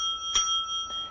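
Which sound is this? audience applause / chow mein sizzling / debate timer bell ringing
debate timer bell ringing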